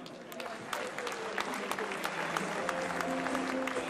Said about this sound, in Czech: Ještě jednou potlesk, prosím.